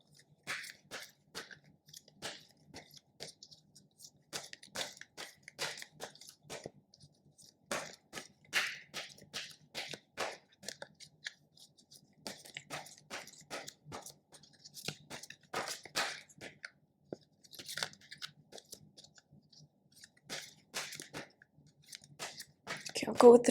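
Oracle cards being handled and picked from a deck, with soft close-up shuffling, sliding and tapping of card stock in irregular bursts, faint and intimate, ending with a louder handling noise.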